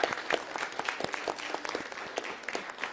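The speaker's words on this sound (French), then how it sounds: "je pense que vous méritez une belle main d'applaudissement, le professeur" A room full of people claps for a teacher after a mayor's address, the sharp individual claps clearly separable and fairly close, steady for a few seconds before tapering slightly.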